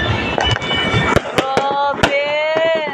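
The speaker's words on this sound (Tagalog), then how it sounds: "Ayun o, may magandang fireworks dun o." New Year's Eve fireworks bursting at a celebration, several sharp broadband pops and cracks spread over a few seconds, some with whistling tones, mid-distance amid crowd noise and nearby voices.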